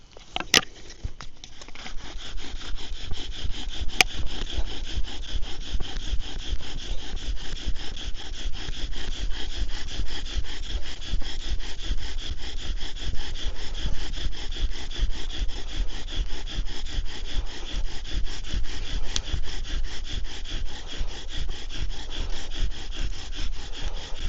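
A wooden socket is drilled for a friction fire, producing a continuous rasping, rubbing grind of wood on wood in a fast back-and-forth rhythm that stays loud and close from start to finish.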